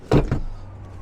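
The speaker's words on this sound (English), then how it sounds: "now let's just quickly get these seats back up" Rear seats of a 2022 SsangYong Tivoli SUV being raised back into place: two quick close clunks of seat mechanism and latch, the first louder, followed by a short quiet interior tail.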